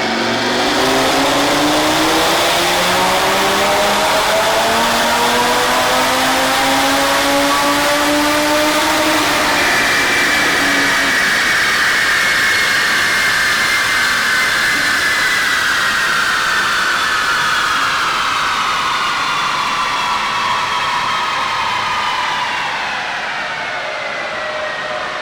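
An Audi RS3 on a dyno with the hood closed revs hard through rising gears, loud and close, the engine note climbing in long sweeps before easing off near the end.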